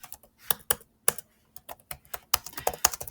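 Close, crisp keystrokes on a computer keyboard while entering a request into ChatGPT, arriving in quick irregular bursts with short pauses between them.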